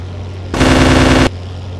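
Aircraft cannon in the video game Aces High 2 fires a single loud, dense burst lasting under a second, sharply starting and stopping against a steady engine drone.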